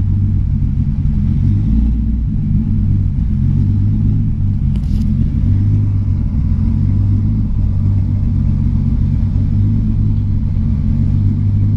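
A car engine idles roughly with a manual gearbox running on automatic transmission fluid, a loud, steady low rumble with slight uneven pulsing throughout and no talking.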